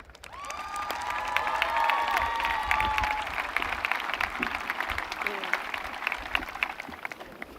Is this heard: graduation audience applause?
yes